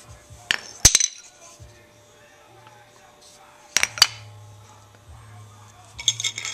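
A body hammer strikes a steel auto body panel in short bursts of sharp, ringing clanks, two or three hits at a time with quiet pauses between.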